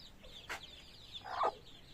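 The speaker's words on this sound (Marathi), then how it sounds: "कोंबडी रावणावर पण बसवलेली आहे आता ओरडेल ती" Two short clucks from a hen, the second louder and longer, against quiet outdoor background.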